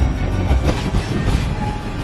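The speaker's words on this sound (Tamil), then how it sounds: "அந்த டனல்ல ட்ரெயினும் வந்துகிட்டு இருக்கு." A train comes through a tunnel with a steady, loud, rumbling roar and a faint rattle of wheels, filling the whole stretch with no voices.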